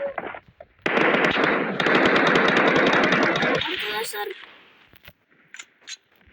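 Rapid automatic gunfire from a video game match, a long loud burst of dense shots lasting a few seconds, then fading to scattered sounds with faint voice afterward.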